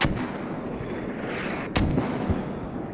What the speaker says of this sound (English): Friendly mortars starting to drop on the Oneshot fob over here.